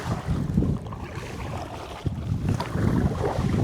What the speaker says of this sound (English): Wind forecast did not have it like this today, but it could be good for us